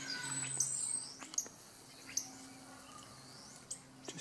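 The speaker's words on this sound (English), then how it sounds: "just listen to the birds." Birds singing outdoors near snowdrops, with scattered high chirps and tweets plus a thin sustained whistle over quiet background hiss, heard alone and fairly faint.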